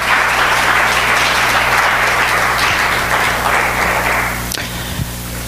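A congregation at a charismatic church revival service applauds, a loud sustained wash of clapping that holds steady, then tapers off near the end over a low room hum.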